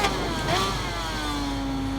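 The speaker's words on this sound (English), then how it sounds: "the revs rising and dropping as I play with the brake pressure" A 2007 Suzuki GSX-R1000 in the Ride 5 video game at Autopolis, its engine revs climbing and falling as brake pressure varies, a mid-pitched motorcycle whine with sliding tones, steady and moderately loud.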